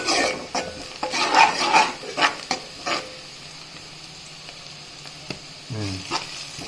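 Onions frying in a pan for a country rooster curry, a sizzle broken by busy stirring scrapes and clinks of a utensil that fade into a quieter hiss, with a short tonal clatter near the end.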